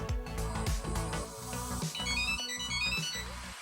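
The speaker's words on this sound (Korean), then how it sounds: "소리 울리기 아이콘을 선택하여 태그에서 소리가 울리도록 할 수 있습니다" A Samsung Galaxy SmartTag Bluetooth tracker plays a bright electronic ringtone melody loudly and continuously, repeating a short chiming pattern with no voices.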